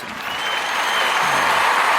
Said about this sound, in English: give that shit another round of applause